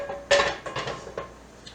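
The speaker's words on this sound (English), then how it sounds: "we want to get a cast iron skillet going" A cast iron skillet set down on a stovetop gives a single heavy metallic clunk, followed by a couple of softer knocks and scrapes, close and brief with no talking.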